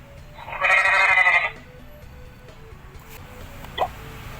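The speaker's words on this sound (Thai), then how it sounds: "แพะ goat" A single goat bleat, loud and close, lasting about a second, then quiet with a brief small sound near the end.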